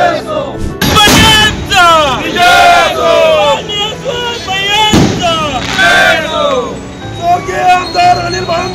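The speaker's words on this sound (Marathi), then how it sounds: "बाबर समर्थकांनी केला प्रचंड जल्लोष" Supporters celebrate with loud cheering and shouting, a dense roaring crowd with sharp bursts of fireworks cracking through, the voices rising and falling continuously.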